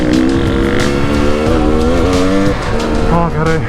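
An enduro motorcycle on a hard enduro rally course revving hard to clear out, a loud close engine note rising and falling through repeated throttle blips, with a voice briefly heard.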